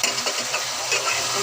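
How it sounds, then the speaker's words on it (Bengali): Potatoes tipped into a frying pan of long-cooked spiced masala set up a steady, close sizzle and hiss, with faint stirring scrapes throughout and no talking. "এখন আলুগুলো দিয়ে দেবো।"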